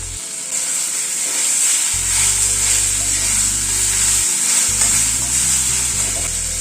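Kalmi greens cooking with mustard paste in a pan, a loud continuous hiss and sizzle with scraping stirs of a spatula, close up, while steady background music plays underneath.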